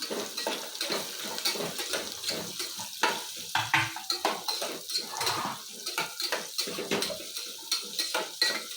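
Onion and carrot frying in hot oil in a pan for a fenugreek sprout rice dish, with a soft sizzle under frequent clinks and scrapes of a utensil against the pan, close by and without talking.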